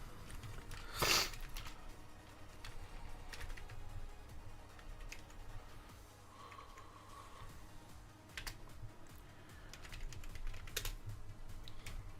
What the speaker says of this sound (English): I was typing